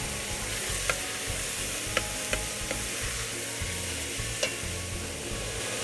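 Shredded chicken breast stirred in a pot for homemade chicken chili: a steady, close sizzle with sharp scraping clicks of the spoon against the pot at irregular intervals.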